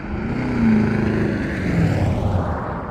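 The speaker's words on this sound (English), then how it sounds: "That's a Toyota wannabe truck, and they put an aftermarket exhaust on it, trying to make it sound like a Ford or Chevy" A Toyota pickup fitted with an aftermarket exhaust rumbles past close by, a loud, steady low drone that swells and holds for a few seconds with no talking.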